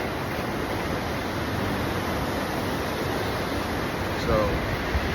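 Steady broadband wash of ocean surf on a beach at dawn in Canggu, constant and fairly close, with a brief louder swell near the end and no talk.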